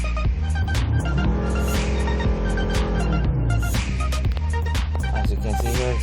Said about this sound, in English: Let's try to accelerate and see the RPMs here.